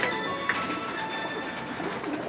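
Soft cooing from a sick pigeon over a steady hiss of background noise, with a brief clatter near the start; no talking.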